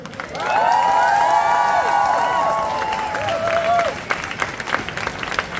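A crowd at the Pride Valais gathering bursts into loud, sustained applause and cheering for queer artists, with whoops rising over the clapping before it eases into scattered claps.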